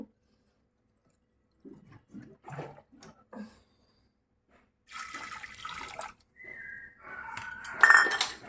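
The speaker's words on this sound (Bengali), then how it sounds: "আর একটু জল দিতে হবে পরিমাণ মতো জল না দিলে আবার ভালো মতো সিদ্ধ হবে না তো আমি আর একটু জল দিয়ে দেব" Water being poured into a pressure cooker for cooking, with a few soft clinks of pots first, then splashing bursts of pouring and metal clatter near the end, close by with no talk.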